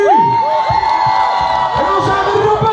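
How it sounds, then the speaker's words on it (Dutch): A festival crowd at the Jordaanfestival cheers, whoops and claps loudly and continuously, with tonal shouts and voices rising over the steady roar of the crowd. "Jongens, geef ze even een applaus"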